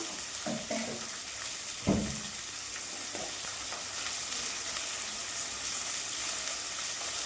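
Salted onions softening in a pan for a gongura and dried prawn curry give a continuous close sizzle, with a couple of soft knocks of a spoon near the start.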